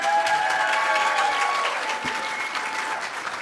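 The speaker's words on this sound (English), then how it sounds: "I want the applause as like a vote." Audience at a city leadership debate breaks into sustained applause, a dense clapping roar that holds steady and fades slightly toward the end, with no speech over it.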